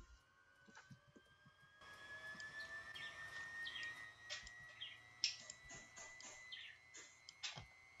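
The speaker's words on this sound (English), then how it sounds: "if you want to start the engine right here" An engine in a video game starts up with a low click, then swells into a steady whining drone with brief higher chirps over it.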